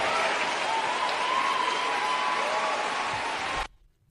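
An audience of students applauds and cheers a remark by Barack Obama in a hall, dense sustained clapping with crowd noise at full strength, then stopping abruptly near the end.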